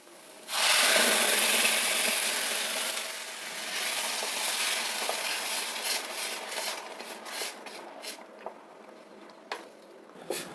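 Tomato puree stirred into fried onions in a hot pan, a loud wet sizzle bursting in at first, then easing into scraping and squishing strokes with scattered light clicks of the spoon, no talking.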